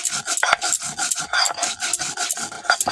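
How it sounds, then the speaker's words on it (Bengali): Spices such as cumin and chillies being ground together on a grinding stone: a steady, rhythmic rasping scrape, stroke after stroke, close and fairly loud with no voices. "একসাথে বেটে নেব সব"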